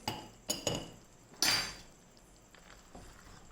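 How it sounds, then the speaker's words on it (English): A metal spoon clinks against a vessel while stirring a raw groundnut and rice mixture: a few sharp scraping knocks, one louder clack near the middle, then softer scuffs, close and otherwise quiet. "Use spoon and mix it."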